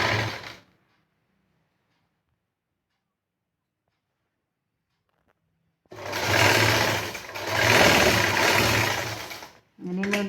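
An electric sewing machine stitches the edge of a puff sleeve in fabric, a loud close mechanical whirring burst that starts after a long silence, with a brief pause and restart near the end.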